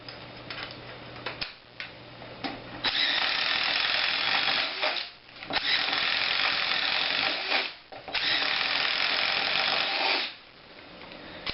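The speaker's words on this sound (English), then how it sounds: "That clicking sound you're hearing means that the clutch reached its predetermined limit and the hammer is" A DeWALT 20V MAX 1/4-inch impact driver turns a 1/2 inch paddle bit, its clutch-limited hammer giving a loud, close, rapid ratcheting clatter in three long bursts with short pauses between them, after a quieter start.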